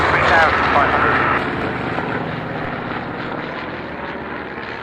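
A Corsair fighter aircraft flies at a Duxford airshow, a loud droning engine roar that fades to a lower hum after the first second, heard under radio chatter and talking voices.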